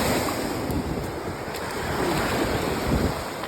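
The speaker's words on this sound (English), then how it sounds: "Come on, waves." Lake Michigan waves washing onto a rocky shore, a steady rushing wash mixed with wind buffeting the microphone, continuous and close with no voices.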